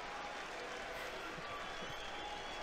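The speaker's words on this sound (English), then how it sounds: "let's just cue the crowd noise" In WWE Champions, a steady dense wash of arena crowd noise roars evenly throughout, loud and continuous with no clear breaks.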